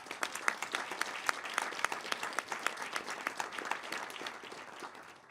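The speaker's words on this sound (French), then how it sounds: "Je pense vraiment on peut vous applaudir pour ça" An audience at an ESG conference on the just transition applauds: steady, fairly faint clapping from many hands, continuous for several seconds before tapering off.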